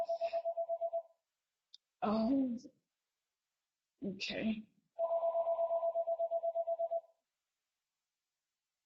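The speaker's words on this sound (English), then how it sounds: "Sorry, my phone is ringing, but I can't answer the phone right now." A mobile phone rings nearby in an even, rapid electronic pulse, once at the start and again for about two seconds near the end, while a person speaks briefly in between.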